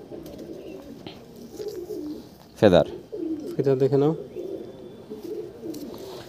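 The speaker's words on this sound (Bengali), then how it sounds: "এটা নর পায়রা" A male pigeon from an Andhra pigeon collection coos in a couple of short bursts near the mic, with someone talking throughout and a faint roomy background.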